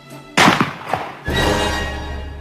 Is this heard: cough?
no